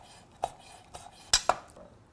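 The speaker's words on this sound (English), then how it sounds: "We're just gonna cut our gator into some small little cubes." Knife strokes chopping raw alligator meat into small cubes on a board, a few sharp separate knocks and clicks with quiet gaps between, close and fairly soft, no talking.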